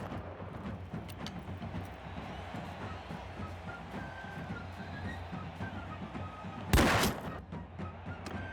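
Early 1700s-era musket gunfire in the video game Mount & Blade II: Bannerlord: scattered distant pops over a steady battle rumble, then one loud close shot near the end.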